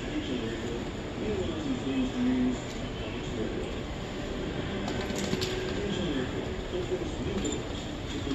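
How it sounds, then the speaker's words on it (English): An Incheon Airport maglev train approaches with a steady, broad rumble, while a brief tonal sound rises and falls early on. "The train bound for Yongyu is now approaching."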